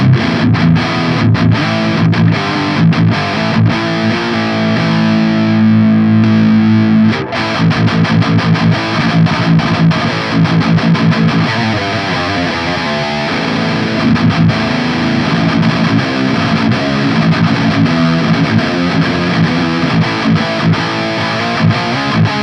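Electric guitar through an amp's second channel with no pedal engaged, playing loud, gritty distorted riffs with choppy muted strums and a held chord partway through, continuous and close.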